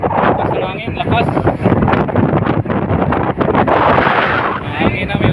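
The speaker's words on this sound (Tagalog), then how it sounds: "Lakas ng hangin, lakas." Strong gusty wind roars loudly and steadily across the microphone, a dense broadband rush that swells and dips without pause, with a voice faintly present beneath it.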